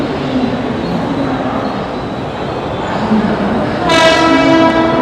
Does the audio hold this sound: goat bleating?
no